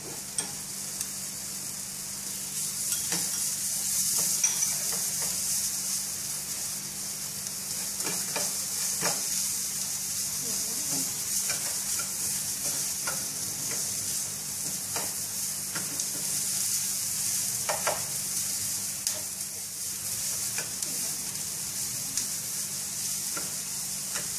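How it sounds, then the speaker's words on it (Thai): Minced pork stir-fries in a pan for tomato-sauce spaghetti, a continuous even sizzle with occasional spatula scrapes and small pops, close and steady throughout with no talk. "เราก็เริ่มเอาหมูสับมาผัด"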